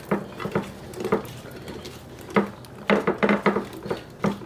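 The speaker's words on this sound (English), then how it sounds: "just toss it all together again" Potatoes dusted with sweet paprika and seasoning are tossed together in a bowl, giving a series of short clattering, patting bursts at irregular intervals, close by and moderately loud.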